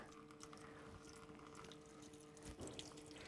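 A pump pushes water through a hose into a pitcher at a low flow rate, giving a faint, steady trickling wash with a slight swell near the end.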